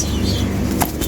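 A leg-banded racing pigeon beats its wings close by in a loud, brief burst of flapping.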